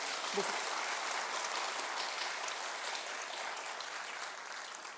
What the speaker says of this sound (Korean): 다시 한번 힘찬 박수 부탁드리도록 하겠습니다